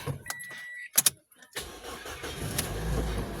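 A Toyota Vios engine with a faulty computer box cranks with a few short sharp bursts, then catches and settles into a steady low running hum close by.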